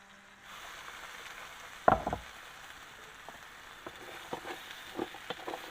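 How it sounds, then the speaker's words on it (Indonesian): Food fries in a pan at a simple cooking spot in a garden hut on a forest slope, a soft steady sizzle with an occasional louder pop or clatter and intermittent crackles. "Saya akan goreng ya."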